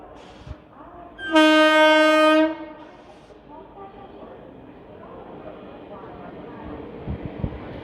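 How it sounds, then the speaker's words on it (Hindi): An Amrit Bharat train on the Berhampur–Udhna route pulls into an Indian railway platform, giving one loud, steady horn blast of about a second before a low rolling rumble continues under faint voices and station noise. "प्लेटफॉर्म नंबर 2 पे अराइवल हो रहा है बरहमपुर उदना अमृत भारत का।"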